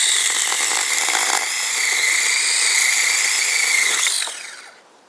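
A small mini chainsaw buzzes loudly at a high, steady pitch while cutting wood, then winds down and fades near the end.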